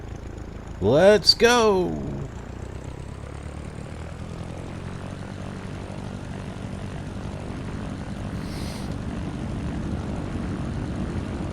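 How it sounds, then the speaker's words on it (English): In a flight simulator game, a Cessna's propeller engine drones steadily as a constant low hum for most of the stretch, after a loud voice bursts out at the start. "My goodness, I just started the plane, for crying out loud."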